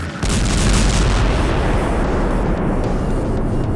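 A massive, sustained roaring blast fills the clip after a brief quiet start, dense, rumbling and loud throughout, from 500 kg of explosives opening a sluice from the Kyiv Reservoir to the Irpin River.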